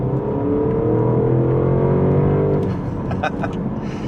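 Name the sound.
2025 Porsche Panamera GTS accelerating in Sport Plus mode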